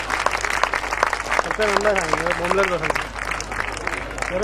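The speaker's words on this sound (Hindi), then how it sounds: "जोरदार तालियां अमरजीत सिंह के लिए" Applause from an audience at a Hindi kavi sammelan poetry event, welcoming Amarjeet Singh to the stage, with steady clapping throughout and a voice speaking over it midway.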